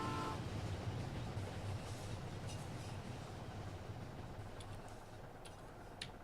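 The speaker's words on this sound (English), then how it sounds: "There's the train." A train in the video game My Summer Car passes at a distance as a faint, continuous rumble with light ticking clicks, its sound fading slowly.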